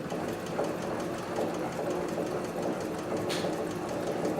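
A Cowboy 6900 walking foot sewing machine stitches through four layers of chrome tan upholstery leather, a steady rapid mechanical chatter with a soft whir underneath and one brief hiss near the end.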